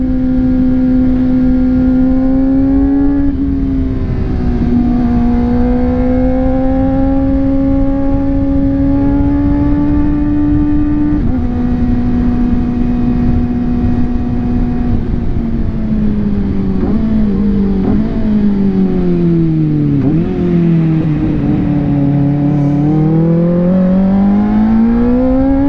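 A Kawasaki ZX-4RR four-cylinder motorcycle revs loudly and close, its high whining engine note climbing and dipping in sustained sweeps with gear changes, heard alone without talk.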